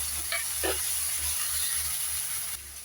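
Ground ginger, garlic and onion paste hits a hot pan while making mushroom gravy, giving a steady, close hiss and sizzle that runs throughout, with a couple of brief clinks and no talking.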